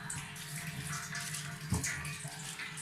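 Whole onions with skins on dropped into water seasoned with turmeric and salt for beef paya, with a continuous watery wash and one soft, dull plop partway through.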